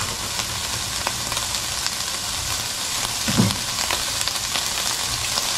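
Vegetables fry in cooking oil with a loud, steady sizzle and crackle that continues without a break through the whole stretch, close up and with no voices.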